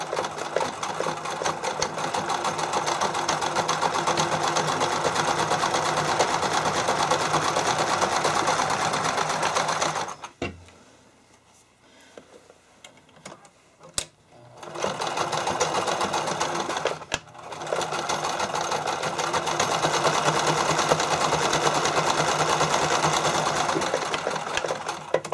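A sewing machine runs a wide zigzag stitch along a fabric edge while making figure skating soakers, stitching steadily and loudly, pausing for a few seconds midway, then resuming for a long continuous run.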